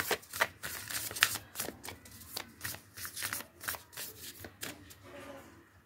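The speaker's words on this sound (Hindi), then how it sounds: "दो डेक से और कार्ड्स लेते हैं" Tarot cards being drawn and shuffled from two decks during a reading, a quick run of close papery flicks and slaps with no talking.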